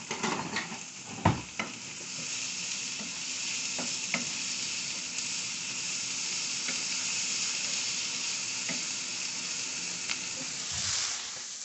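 Leftover beans and rice cook in a hot pan with a steady, even sizzle that runs throughout, broken by a few sharp knocks and scrapes of stirring near the start.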